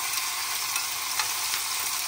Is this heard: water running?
no